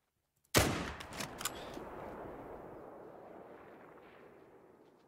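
A single loud rifle shot in theHunter: Call of the Wild, fired at a red deer from about 305 m, hits with a sharp crack and then rolls away in a long, fading echo that lasts several seconds. No voices are heard.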